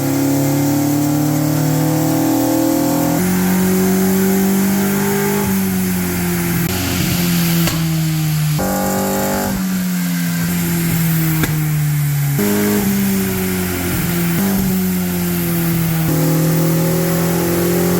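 A Fiat 124 Spider engine revving hard and steadily during a horsepower test, a loud, continuous mid-pitched roar that rises and dips with throttle changes over many seconds, with no talking.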